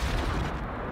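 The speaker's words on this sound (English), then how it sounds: "That was my last rocket. That was a big explosion." Rocket explosion in the video game Generation Zero, a dense low rumbling boom filling the whole short moment, loud and close with no voices.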